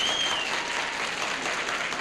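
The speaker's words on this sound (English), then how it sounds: "I don't know why the yellow section is applauding for that." Studio audience applauding on a 1970s television game show, steady dense clapping throughout at moderate loudness, with no talk over it.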